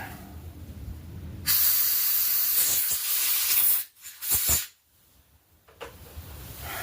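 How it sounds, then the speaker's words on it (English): Aerosol cleaner sprays in loud, hissing blasts into carburetor parts from a Poulan 38-inch riding mower. One long spray is followed by two short bursts, then quieter background. "So let's clean, get all this sprayed out."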